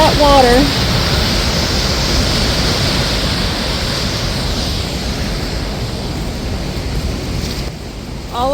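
A mountain waterfall fed by snowmelt roars as a steady, dense rush of falling water, loud and unbroken throughout, with brief faint sounds at the very start and end.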